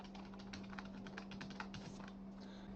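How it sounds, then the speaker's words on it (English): Keys on a computer keyboard are tapped in a quick, uneven run of light clicks while entering a password, close by and quiet over a steady background hum. "and type the password."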